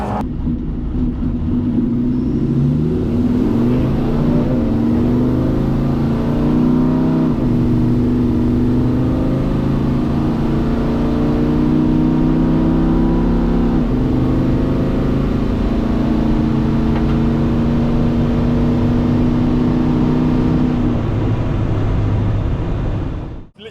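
Twin-turbo V10 TDi engine in a GQ Patrol Shorty during a run, loud and close, revving up through rising pitches and holding strong for over twenty seconds before cutting off, with no talk.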